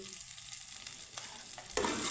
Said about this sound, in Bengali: কারি পাতা আদার সাথে লঙ্কাটা আমি ভেজে নিয়েছি